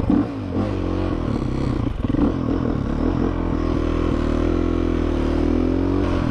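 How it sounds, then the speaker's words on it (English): A KTM supermoto motorcycle engine runs roughly in traffic and fails to hold its idle, a loud, close, uneven rumble with stumbling and faltering at first, then a steadier droning idle. "It won't idle. What the hell is happening to my bike?"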